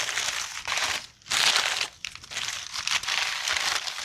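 Packing newspaper crumpled and crinkled during unboxing, a close, continuous papery rustle in bursts with a brief pause between handfuls.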